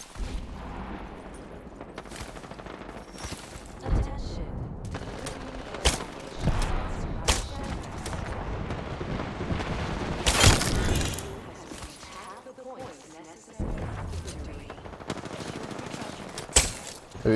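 Bursts of video game gunfire in a shooter match, with rapid automatic volleys and sharp single shots scattered across the stretch, some louder and closer, over a busy background of game effects.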